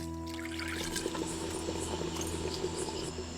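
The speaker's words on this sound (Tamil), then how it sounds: "கூடவே குழம்புக்கு தேவையான அளவு தண்ணியை ஊத்தி கொதிக்க வச்சிடலாம்." Water is poured into a pot of cooked lentils for sambar, a continuous close trickling and splashing over a low steady hum.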